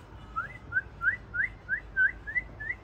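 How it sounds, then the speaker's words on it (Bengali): Pet birds in a pet shop in Italy give about eight short rising whistled chirps in a steady, evenly spaced series, faint and fairly close over a low room hum. "এই পাখিগুলো নিয়ে আয়সা খেলাধুলা করে তাই না"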